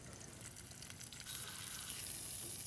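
Pork loin searing in a hot pan gives off a steady, fairly quiet sizzle that thickens and grows brighter about halfway through, continuing unbroken with no voices.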